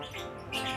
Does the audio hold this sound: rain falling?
no